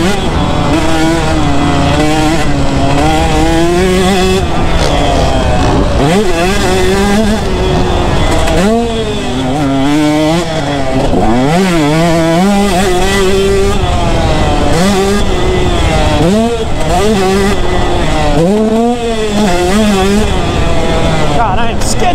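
A two-stroke motorcycle is ridden hard, its loud, close engine constantly revving up and down in rapid, wavering pitch sweeps, with a rider talking over the engine noise.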